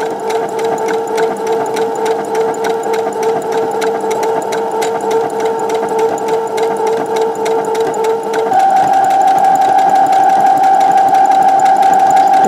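Sewing machine running a back-and-forth stitch on jersey fabric, a loud, steady rapid mechanical whir that shifts to a higher, faster pitch near the end, with no talking.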